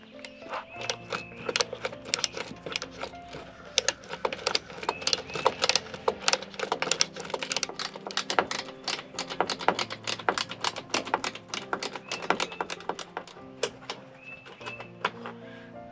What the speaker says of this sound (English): this little ratchet allows me to get up in there